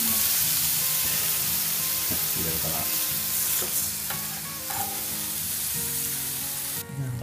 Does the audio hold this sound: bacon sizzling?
yes